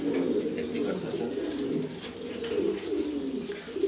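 Grizzle and racer pigeons in a loft coo softly and continuously, with several overlapping low, rolling calls at a fairly quiet level.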